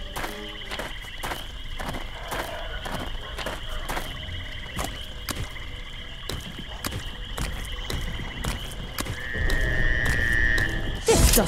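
Viper frogs in the swamp of the game Wizardry 8 croak repeatedly in a rhythmic pulse over ambient game sound, with a louder swell near the end.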